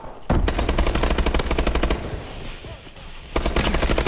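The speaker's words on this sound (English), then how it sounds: "He tried to kill me with the shotgun" Rapid bursts of automatic gunfire in a Call of Duty Advanced Warfare multiplayer match, loud and close, pausing briefly before another sustained burst.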